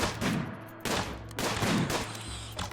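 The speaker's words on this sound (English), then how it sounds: "No, we're shooting him." RimWorld colonists fire their guns during a colony-wide animal attack in a zombie apocalypse mod: loud, rapid bursts of gunfire in close succession, with brief gaps between the volleys.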